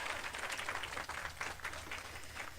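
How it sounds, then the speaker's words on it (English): Summit audience members clap in a soft, distant patter of applause that continues evenly at low volume, heard faintly from across a large plenary hall. "You can clap for that."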